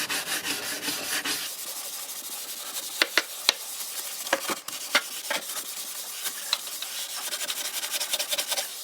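Scrubbing paste over rusty surfaces under a kitchen sink, a steady close rubbing texture with a few sharp knocks and scrapes scattered through, no voices.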